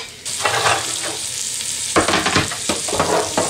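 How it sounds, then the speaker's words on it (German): Chicken meat sears in a pot with loud, close sizzling and frying, broken by scraping stir strokes as the pieces are moved about. "Damit ich das gleich als erstes ein bisschen anbraten kann. So. Und das Fleisch kann in den Topf rein."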